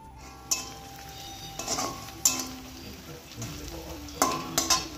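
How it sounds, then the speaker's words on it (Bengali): Whole dry chilies, bay leaves, onion, garlic and cumin seeds tempering in hot oil: a faint sizzle under intermittent scraping stirs and metallic clinks of a spoon against the pan. "এখানে হচ্ছে শুকনো লঙ্কা, তেজপাতা, পেঁয়াজ, রসুন আর গোটা জিরে ফোড়ন দিয়েছি"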